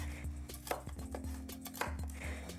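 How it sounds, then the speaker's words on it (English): Red and yellow peppers chopped with a knife on a board, a rapid run of close, crisp thuds with no talking. "I'm going to chop up some red and yellow peppers"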